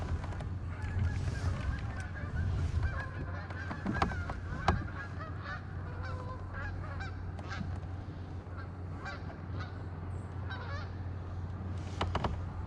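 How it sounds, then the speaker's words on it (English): Geese honk repeatedly at a distance over a pond, scattered calls rising over a quiet, low background hum. "Some geese."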